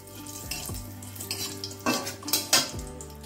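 Dried red chilli tempering in hot oil, a few close clatters and scrapes of a utensil against the pan building to louder metallic knocks, with a faint sizzle underneath.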